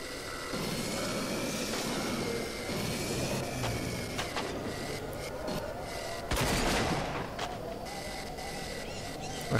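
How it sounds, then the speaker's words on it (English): Enemies fire guns in the shooter game RAGE: dense, continuous gunfire and sharp bursts layered over a steady background roar of in-game noise, with no talking. "I hear them shooting me."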